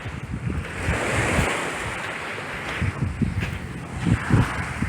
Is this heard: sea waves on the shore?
yes